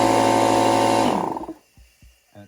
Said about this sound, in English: you switch the compressor on